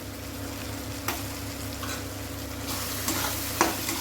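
Paneer bhurji frying in a pan after Kashmiri red chili powder goes in: a steady, moderate sizzle with a few soft scrapes and taps of a spatula stirring near the pan, and no one talking.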